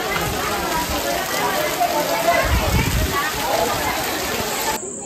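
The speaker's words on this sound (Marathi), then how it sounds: "कडक पाऊस पडतो" Heavy rain pours down in a Konkan village, a dense, continuous hiss that stays close and loud throughout before cutting off sharply at the end.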